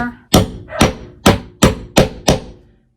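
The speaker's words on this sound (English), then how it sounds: "then you're going to take your hammer" A hammer strikes a metal cap onto a webbing crossbody strap set on a tool: six loud, close, sharp blows in a steady rhythm, each ringing briefly before the next.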